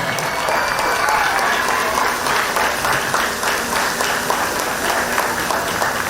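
Children cheer and applaud steadily at a school sports meet prize-giving for junior championship cups, a dense, continuous wash of clapping and shouts from a large young crowd.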